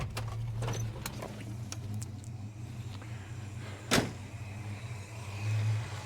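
A groggy starter motor on a Holden HK cranks slowly as a steady low whirring drone, with a few faint clicks and one sharp knock partway through.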